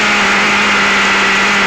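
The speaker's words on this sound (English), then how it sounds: "So you can hear here it started, but when I get the throttle on, it dies straight away" Schumacher XTR21 RC nitro car engine running in a steady, loud, high-pitched buzzing drone, close by, with no change in pitch and no voices over it.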